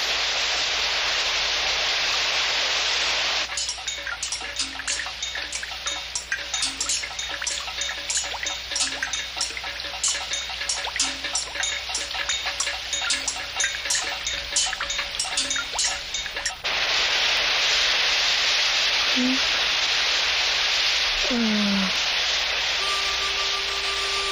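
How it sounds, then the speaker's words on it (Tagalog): Steady hiss of rain, with a stretch of dense pattering drops in the middle and a few faint tones near the end. "Sana naman tumigil na ang ulan."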